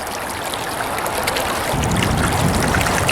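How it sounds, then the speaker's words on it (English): Water and gravel trickle steadily through a self-feeding gold mining sluice box, a continuous close washing and dribbling flow that swells slightly partway through, with no talking. "trickle of material starting to feed into our sluice box here"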